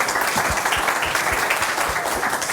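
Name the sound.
applause for conference speaker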